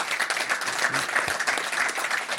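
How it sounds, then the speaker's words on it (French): Sustained audience applause for sailor Anthony Marchand at a sailing race position report event, dense steady clapping from a crowd, fairly close and continuous. "Juste à côté d'Alain, vous pouvez l'applaudir aussi, Anthony Marchand."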